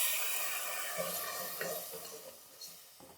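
Tomato paste frying with spice masala in a pan, a soft steady sizzle with occasional light stirring taps, quiet and close, no talking.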